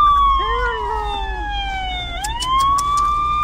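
A police car siren wails close by in traffic, its rising and falling tone sweeping repeatedly over a low rumble of the road, with no talk heard.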